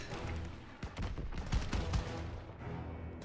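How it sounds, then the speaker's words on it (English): Gunfire in the World War II video game Call of Duty WW2: a cluster of sharp, moderately loud shots and bursts in quick, irregular succession over a couple of seconds. "Where are they shooting at him from? Where are the shots coming from?"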